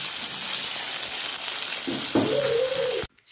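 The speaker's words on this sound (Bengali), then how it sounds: "একটু তেলটা গরম হলে আমি আলুটা ভাজবো" Potatoes fry in hot oil in a home kitchen, giving a steady, close sizzle that holds for about three seconds and then cuts off abruptly.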